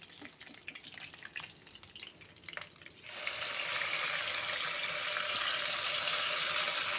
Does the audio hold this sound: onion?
yes